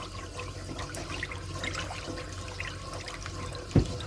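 Half and half is whisked into a mustard cream sauce in a pan over high heat, making a soft, continuous liquid swishing and sloshing close by, with one brief knock near the end.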